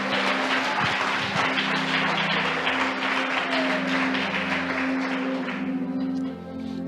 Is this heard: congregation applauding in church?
yes